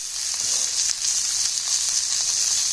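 A thick pepper steak filet sizzles steadily in a hot pan, a continuous bright hiss with faint pops and crackles. It stays close and even throughout, with no voices.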